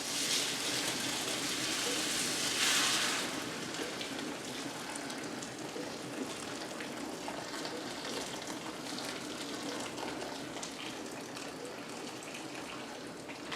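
A steady rushing pour of boiling water into a pan of roux runs continuously, louder in the first few seconds and then settling into a softer bubbling hiss.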